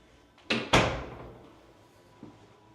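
Coat closet door in a modern home opening with two quick close knocks, a fading rattle afterward and a faint tap near the end.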